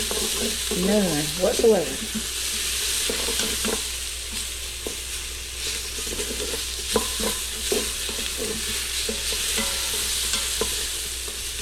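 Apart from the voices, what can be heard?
onions sautéing and being stirred in Instant Pot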